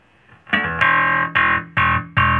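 Distorted electric bass notes played through a vintage Music Man 65 bass amp with the bright switch on, with a bright, cutting edge: a sustained chord followed by three punchy, evenly spaced hits, loud and close.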